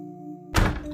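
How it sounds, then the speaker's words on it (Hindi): A heavy door slamming shut on its own as a horror story effect: a steady low hum, then one sudden loud thud with a brief rumbling tail. "धड़ाम दरवाजा अपने आप बंद हो गया।"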